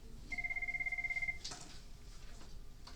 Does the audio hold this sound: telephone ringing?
yes